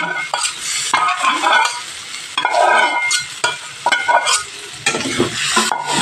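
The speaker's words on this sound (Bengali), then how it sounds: "গ্যাসের ফ্লেমটা মিডিয়ামে রেখে মশলার সঙ্গে সবজিটা ভালো করে কষিয়ে নিতে হবে।" Potato, onion and eggplant being fried with spices for a chorchori, heard as vigorous stirring in bursts with a crackling sizzle and the clink of a spatula against the pan, close-up and loud, no speech.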